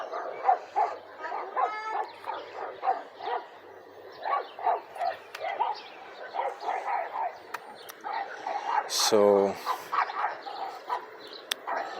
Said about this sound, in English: the barking's going to be lovely.